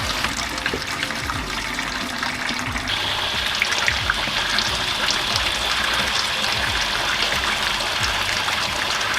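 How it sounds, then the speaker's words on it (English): Water pours and splashes steadily for several seconds as a Mazda Miata's cooling system drains during a coolant flush, a continuous gushing flow into a container, close by with no pauses. "it looks like clear water is now coming out"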